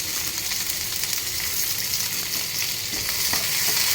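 Onion, curry leaves and garlic fry in a pan for tomato chutney, giving a steady, close sizzle with crackling bubbles and occasional stirring scrapes, and no voices.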